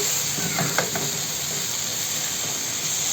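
Burek filling with kofta sizzles and fries steadily in a pan as it is stirred, a constant close hiss with a few faint scraping clicks near the start.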